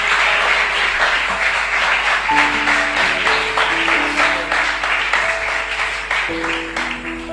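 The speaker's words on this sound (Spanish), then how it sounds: "¡Damos aplausos al Señor!" A church congregation applauds in a dense, sustained burst of clapping that fills the room, with sustained tones from music or voices woven through it and no clear speech.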